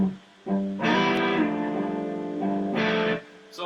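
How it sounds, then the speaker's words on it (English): Rhythm guitar part built on 6/9 chords, played alone: a few strummed chords in two groups, each ringing on with a long, full sustain, close and fairly loud. "the rhythm guitar part there sounds like this"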